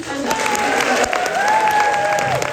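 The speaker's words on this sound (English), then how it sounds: "I just think I want to give them a really big round of applause" Audience applause for the staff at a Christmas concert, a steady dense patter of clapping throughout with a sustained tone running underneath.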